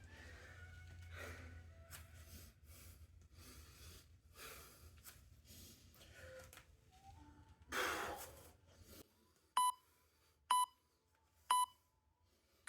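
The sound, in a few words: interval timer app beeping on a phone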